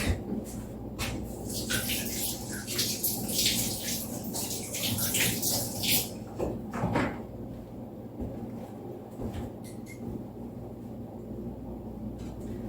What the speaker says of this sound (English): Now I'm going to wash my hands because they're slick.